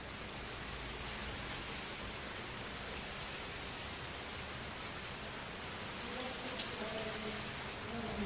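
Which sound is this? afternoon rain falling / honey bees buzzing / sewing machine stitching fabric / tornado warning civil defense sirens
afternoon rain falling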